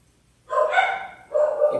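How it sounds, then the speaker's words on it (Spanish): Dogs barking near a church gathering: a loud cluster of sharp, overlapping barks followed after a short gap by another burst, close and clear with no talk. "perdóname a los perros que están ahí"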